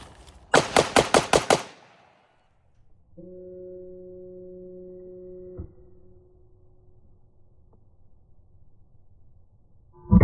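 Six rapid, sharp rifle shots from an AK fitted with an AK-74 muzzle brake ring out close and loud, followed by a steady electronic tone, near silence and one more sharp crack at the end.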